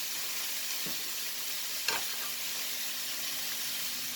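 Butter sizzles in a hot pan as a dürüm wrap fries, a steady close hiss with a couple of soft bumps or clacks from handling, no voices.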